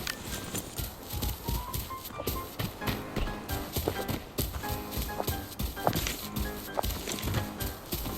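Horses stamp and clop in a stable in the shooter game Arena Breakout, a busy close run of hoofbeats with a faint snort, layered over steady game ambience.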